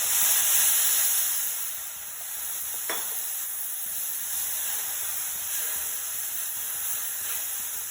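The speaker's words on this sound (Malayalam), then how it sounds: "ഇനി അതിലേക്ക് നമുക്ക് 1 കപ്പ് പാൽ ഒഴിച്ചു കൊടുക്കുക കേട്ടോ" Steady, loud hiss and sizzle as a cup of milk hits a browned mixture in a pan on low flame while making Aflatoon, a traditional sweet dessert, with one brief sharp crackle partway through.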